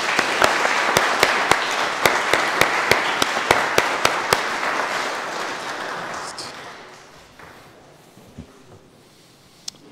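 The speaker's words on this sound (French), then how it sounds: "Bonne main d'applaudissements." Applause from a congregation in a church, a dense burst of clapping with a few sharp individual claps that gradually thins and fades out, with faint voices as it dies away.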